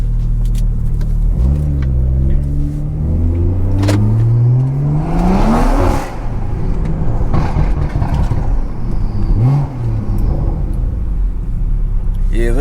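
A BMW 340i accelerating through downtown city streets, its engine revving up loudly in rising sweeps with a deep rumble, several pulls heard up close from inside the car.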